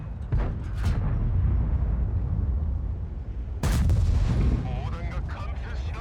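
Tank cannons firing premium rounds in World of Tanks, with two sharp broadband blasts, one early and a louder one midway, over a dense rumbling battle bed.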